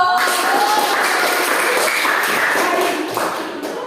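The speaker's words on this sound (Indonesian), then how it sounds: "Kita tepuk tangan dulu untuk kelompok 3" A classroom of students applauds a presenting group, dense continuous clapping filling the room for several seconds before gradually thinning out.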